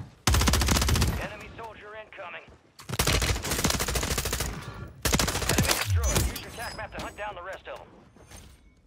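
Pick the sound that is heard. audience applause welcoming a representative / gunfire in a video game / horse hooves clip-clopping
gunfire in a video game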